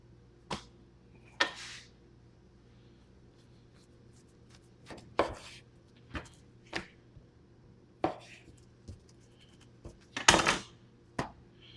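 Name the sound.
knife cutting Copper Creek ribeye steaks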